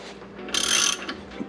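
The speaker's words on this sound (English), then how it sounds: "I'll just slowly apply pressure with my ratchet." A ratchet is cranked slowly to press a ball joint on a Chevy S10, giving a short loud burst of metallic clicking in the middle followed by a few softer clicks.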